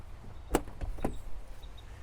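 A heavy door on a classic Jaguar XJ6 sedan, with tight hinges and mechanisms, makes two sharp latch clicks and thumps about half a second apart, close by against a quiet background.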